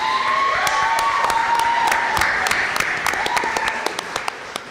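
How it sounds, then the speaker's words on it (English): An audience at an event for state representative candidates claps and cheers, with sharp individual claps and a whistle over a crowd wash that gradually thins out. "We thank you very much for your applause and your support for your candidates."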